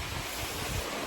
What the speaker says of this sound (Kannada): ಗಾಳಿ ಬೀಸ್ತಾ ಇದೆ